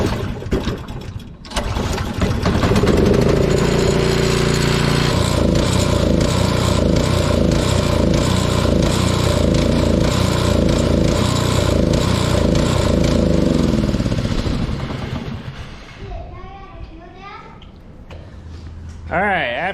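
A Toro snow blower engine runs steadily and loud close by, a rough continuous drone held for a long stretch before sputtering and fading as it runs out of fuel; a voice speaks briefly over it.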